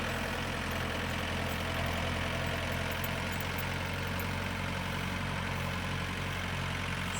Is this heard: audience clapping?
no